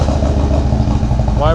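Harley-Davidson Low Rider S cruiser motorcycle engine starting with the push button, a loud low rumbling idle that rises briefly at the end, heard over someone talking.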